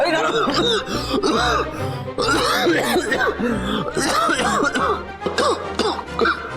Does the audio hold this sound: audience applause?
no